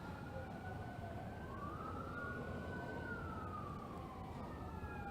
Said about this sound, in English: if you hear those sirens in the background, that is Pritchard Police